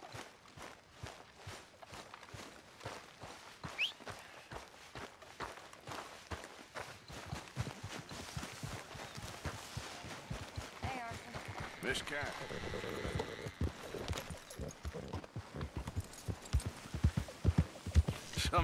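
Horse hooves clip-clop in Red Dead Redemption 2, a steady rapid patter of footfalls running under the game's ambient sound and brief spoken lines.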